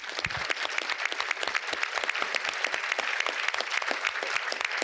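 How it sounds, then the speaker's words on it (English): An audience claps for eight Democratic candidates at a PA10 candidate forum, a brisk, even round of many hands that stays steady and fairly close throughout, with no speech over it. "Let's give all 8 of our Democratic candidates a round of applause."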